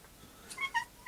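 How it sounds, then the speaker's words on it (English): A cat wandering into a home workshop gives a few soft, short meows in quick succession, faint against quiet room tone with no talking. "Oh, my cat's come to see us."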